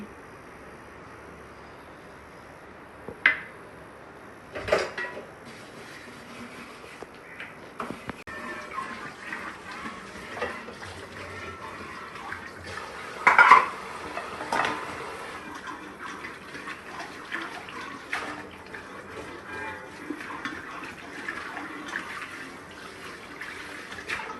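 Dishes and cooking vessels are washed under running water at a home kitchen sink, with a steady low wash of water, occasional clinks and clatters of pots, and a louder splash or knock partway through.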